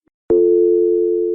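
After a faint click, a steady, loud telephone tone starts abruptly and holds unbroken, a line left dead after a call got cut off.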